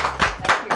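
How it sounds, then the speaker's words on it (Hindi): A short burst of clapping from a small audience at a televised game show, cheering the winner and runner-up with a few quick, close hand claps. "जोरदार तालियां हो जाए उनके लिए"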